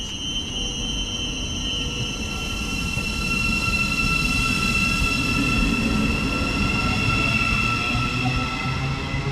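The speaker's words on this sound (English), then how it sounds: "our partner now is the 1108 Great Northern Service to Moorgate" Great Northern passenger train to Moorgate passing through a station on the East Coast Main Line south, a sustained loud rumble of wheels on rail with high squealing tones, close by and continuous, no talking.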